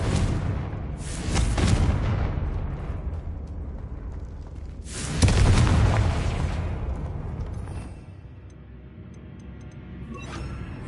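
Confringo fire spell blasts in Hogwarts Legacy, two heavy booming explosions a few seconds apart, each with a long rumbling decay, loud and close with no talk.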